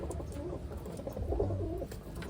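Wantai pigeons, a male and a hen, cooing in a soft low continuous murmur close by, with no one talking.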